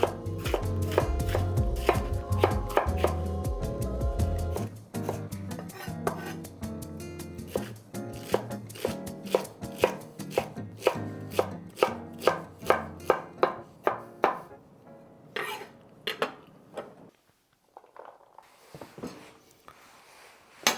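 Celery and other vegetables are chopped with a knife on a board into small even pieces, a long run of rapid close crisp cuts that speed into a dense burst and then slow to scattered strokes near the end.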